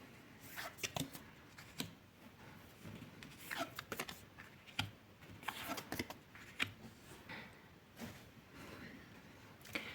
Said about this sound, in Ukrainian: Візьму ще три карти